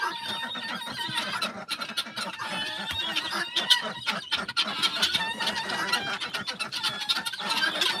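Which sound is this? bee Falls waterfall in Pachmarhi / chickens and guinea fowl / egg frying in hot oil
chickens and guinea fowl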